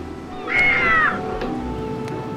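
A single drawn-out cat meow from the Tintin Reporter: Cigars of the Pharaoh video game, rising and wavering for about half a second over a steady low background hum.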